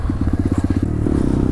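Small-bore motorcycle sold as a Honda Grom look-alike, being ridden with a rapid, throbbing engine putter close by, smoothing into a steadier drone near the end.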